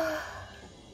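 An F7 Savannah kitten lets out a short, soft breathy sigh that fades away over about a second, with no other sound around it.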